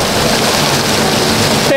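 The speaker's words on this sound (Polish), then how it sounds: "Patrzcie, jak pada, przed chwilą jeszcze świeciło słoneczko." Steady rain falls across an outdoor water park, a dense, even hiss of drops at close range that holds unbroken until a brief change right at the end.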